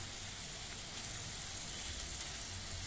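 Butter-coated chicken pieces sizzle steadily in a hot pan, a continuous close, moderately quiet frying hiss with no voices.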